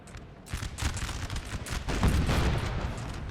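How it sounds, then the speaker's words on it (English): Musket volleys crackle in a Napoleonic Total War 3 battle, a dense, continuous spread of distant shots that grows louder partway through and then holds steady, with no talk over it. "Man, look at the constant volleys. Like, constant fire being put up."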